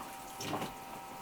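Shower water running steadily at an off-grid cabin, a soft continuous hiss of spray that swells briefly midway, heard alone without voices.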